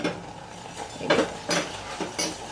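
Coconut cooking in ghee and sugar syrup for mesub is stirred in a pan, giving soft scraping swishes and a few distinct clinks over a low sizzle, close and fairly quiet.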